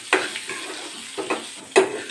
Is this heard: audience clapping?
no